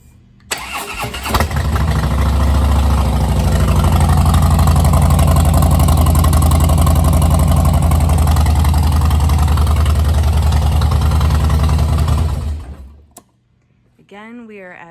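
2012 Harley-Davidson Softail Deluxe engine cranks and fires, then settles into a loud, steady, deep rumbling idle with a loping beat close by, and is shut off near the end.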